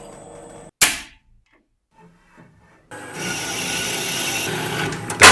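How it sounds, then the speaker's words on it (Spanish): A 6 mm hole is drilled into a small 25 by 25 by 8 mm steel piece: a sharp knock and near-silence, then a steady, close, rasping grind that runs to the end. "Haremos un agujero de 6 milímetros en cada pieza."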